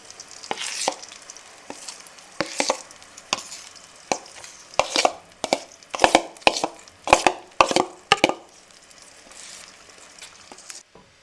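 Semolina poured into hot cooking oil and stirred with a spoon gives repeated sharp scraping and clinking strokes against the pan over a soft sizzle, close and uneven in rhythm, with no talking.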